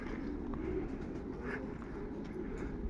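Yearling racing pigeons cooing at a loft during a race return, soft low coos close by over a constant background murmur, with faint chirps and light rustling.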